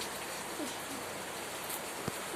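Steady light rain patters across the whole stretch, a soft continuous hiss with no voices, one brief louder drop or knock near the end.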